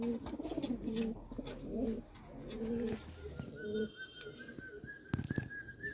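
Pigeons bathing in water coo in repeated low, throaty phrases, close and fairly loud, mixed with splashing and fluttering and some faint higher whistling calls.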